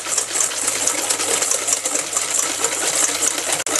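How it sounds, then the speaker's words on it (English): Granular erythritol whisked in a bowl gives a continuous bright, scratchy rattle, loud and close, steady for a few seconds with a brief click near the end. "Just whisk it up."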